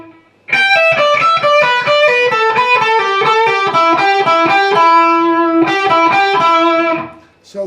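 An electric guitar plays the riff from a song through distortion and chorus effects, a steady run of loud picked notes alone, with a short pause before the line resumes.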